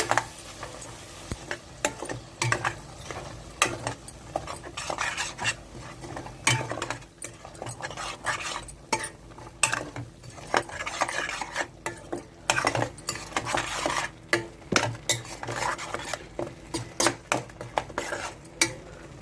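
Spoon stirring an egg masala curry in a pan, with repeated scraping and clinking strokes against the metal in an irregular rhythm and a faint sizzle underneath, close and fairly loud with no talking.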